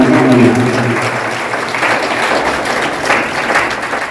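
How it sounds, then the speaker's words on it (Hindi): A crowd claps loudly and steadily to honor a teacher. The applause holds as a dense, even wash for a few seconds, with a brief voice at the very start. "उनके लिए एक बार जोरदार ताली बजाइए"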